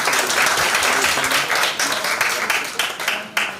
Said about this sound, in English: Might we have a round of applause for Mr. Wilson?